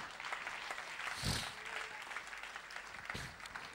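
A church congregation claps loudly and steadily through the moment, a dense wash of applause with a couple of sharper swells, near and continuous.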